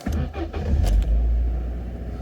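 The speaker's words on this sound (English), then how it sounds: "Make sure that goes straight out as soon as the engine starts." A Vauxhall Astra F petrol engine cranks briefly and catches, settling into a low, steady idle rumble heard up close.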